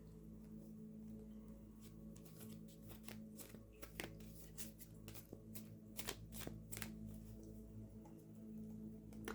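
A When Women Had Wings card deck is shuffled quietly and continuously, with soft riffling clicks and flutters over a low background hum.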